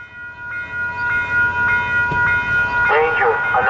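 A train at a railroad crossing with the gates down, a steady crossing bell pinging at regular intervals, then a horn blast near the end, with a brief voice partway through.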